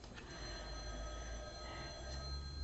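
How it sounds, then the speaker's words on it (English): A telephone ringer goes off indoors, steady harmonic electronic tones sustained across the clip over a low background hum, with no speech. "And I'm sorry about the phone going off."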